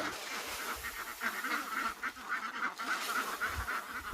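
Young ducks on a duck farm quacking in a busy, continuous chatter, several birds calling in quick irregular bursts at moderate distance, no talking.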